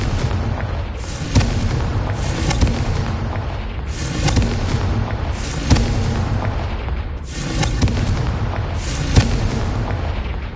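Repeated Confringo fire spells in Hogwarts Legacy burst with booming explosions, about five heavy blasts spaced a couple of seconds apart over a constant rumbling combat din.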